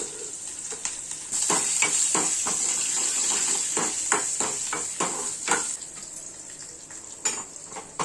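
Dried red chillies and curry leaves fry in hot oil for a tempering, making a loud, continuous crackling sizzle broken by repeated sharp spoon-against-pan stirring clicks. No talking.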